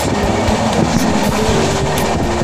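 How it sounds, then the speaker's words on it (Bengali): A passenger train on the Howrah to Digha line rolling along the rails, a loud continuous rumble with rhythmic clickety-clack wheel beats and rattling carriage noise, heard from inside with no talking. "ট্রেনে করে যাচ্ছি"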